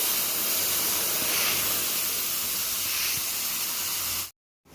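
Cumin seeds and a ground spice paste hit hot oil in a wok, giving a steady, loud frying hiss and sizzle close by that runs unbroken for several seconds, then cuts off abruptly, with no talk.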